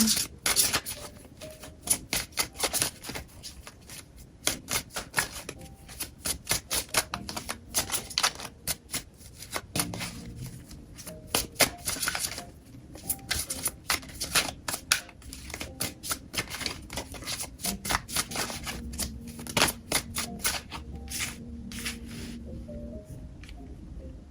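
Tarot cards are shuffled at close range in a long, busy run of crisp riffling and slapping, with rapid clicky bursts broken by short pauses and no talking.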